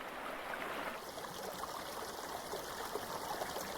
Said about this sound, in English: The stream has plenty of water in the spring